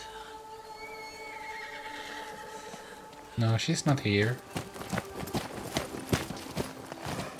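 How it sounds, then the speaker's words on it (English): A horse whinnies loudly in a fantasy TV series scene, followed by clip-clopping hooves and movement, while a person speaks briefly over the quieter opening. "That's a gorgeous horse."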